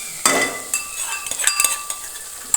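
Tomato, garlic, ginger chutney and dry spices sauté in oil, giving a light, steady sizzle broken by a few clinks and scrapes of a spoon against the pan, close by and with no talking.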